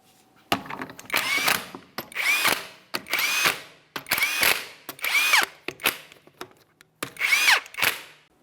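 A cordless impact tool spins 22mm wheel lug nuts down on a 2017-2024 GMC Acadia in several loud, close bursts, each whirring run stopping sharply before the next.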